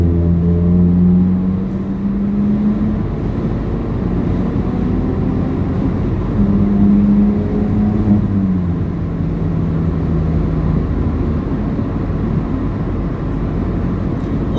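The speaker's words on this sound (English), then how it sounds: "Lots of cars on this highway." Cars and trucks travelling in heavy traffic on Highway 401 in Toronto, heard from inside a moving vehicle as a steady, loud road roar with tire and engine drone, a low hum rising and falling throughout, with no talking.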